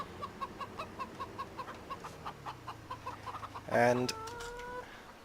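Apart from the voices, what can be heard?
chickens clucking in Farming Simulator 17 video game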